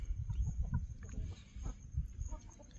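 A young Aseel cock of High Flyer bloodline clucks and calls softly on a farm, with several short low clucks in an uneven rhythm amid outdoor background noise.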